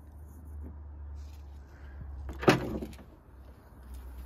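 The double rear doors of a used MINI Clubman Cooper open at the press of a button, a brief mechanical clunk and release standing out over steady low background hum, fairly close.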